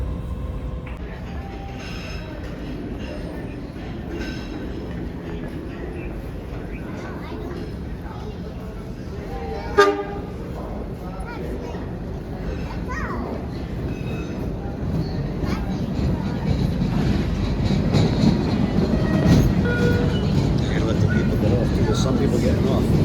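An MBTA subway train rumbles in and grows steadily louder with a brief sharp horn toot partway through, against a busy station background.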